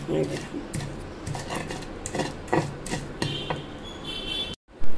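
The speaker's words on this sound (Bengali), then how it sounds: "এখন এই পেঁয়াজ আর রসুনের সাথে ভালো মতন এটাকে মেখে নিতে হবে, মানে বেটে নিতে হবে বাটনাতে।" Eggplant, onion and garlic being ground on a grinding stone for begun bhorta, a close rhythmic scraping and knocking of stone on stone with a voice talking over it, ending in a brief silence.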